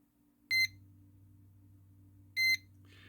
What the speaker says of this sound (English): So there's a continuity you can hear